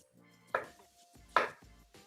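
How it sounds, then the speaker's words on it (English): A knife cuts a potato into smaller pieces for cauliflower cheese soup, giving two crisp, separate chops against a cutting board in a quiet kitchen. "I'm just gonna try to cut it into like slightly smaller"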